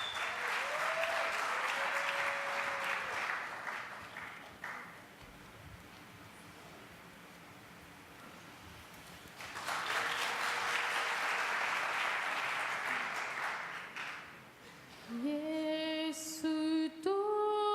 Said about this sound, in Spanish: Vamos a darle un gran aplauso.